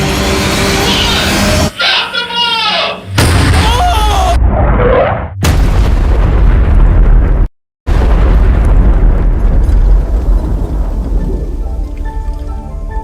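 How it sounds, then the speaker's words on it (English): A homemade bomb rigged with spare fuel by pyrotechnics goes off as loud, broadband explosive blasts and roaring fire noise, with a brief silent gap midway, then sustained crackling rumble. "Using our last bit of spare fuel, the pyrotechnics quickly re-rigged the bomb."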